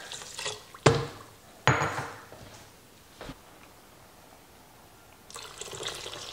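Water poured into a zucchini-bread-style batter of brown sugar, cinnamon and nutmeg, heard as a few short splashes and a brief trickle, faint and close, with quiet gaps between them.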